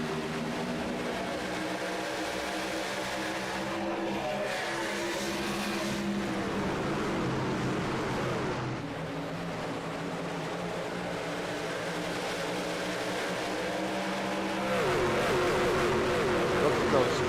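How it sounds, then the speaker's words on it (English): Race trucks roar through turn one and down the long pond straightaway at Pocono Raceway in a video game racing series. The engines drone steadily and loudly, with a broadcast commentator talking over them throughout. "Look at those trucks fan out through turns 1, just through turn 1 and down this long pond straightaway."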